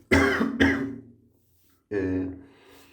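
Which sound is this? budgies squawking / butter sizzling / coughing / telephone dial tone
coughing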